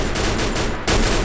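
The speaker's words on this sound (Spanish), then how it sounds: "¡Le disparo al otro!" Rapid bursts of gunfire in the battle-royale shooter Free Fire, loud and dense across the whole moment with a brief dip before another volley hits.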